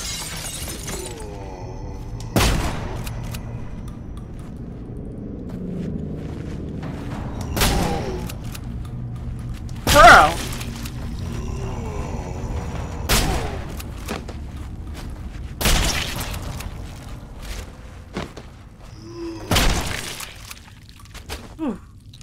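Shotgun blasts in the horror video game Nightmare Of Decay, about seven loud sharp reports spaced a few seconds apart over quiet ambient game sound, with a voice speaking in between.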